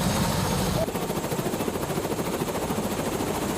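A helicopter in an earthquake-damaged area of Ecuador drones loudly and steadily nearby, its rotor chop pulsing in a constant rhythmic beat throughout.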